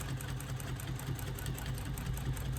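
A sewing machine quilting fabric, running in a fast steady needle rhythm with a low motor hum, close and continuous throughout with no talking.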